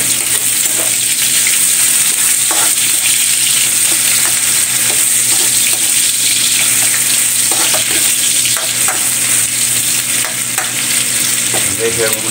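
Ginger hisses and sizzles in hot oil with occasional stirring clicks, a steady close frying sound that runs the whole time with no talking.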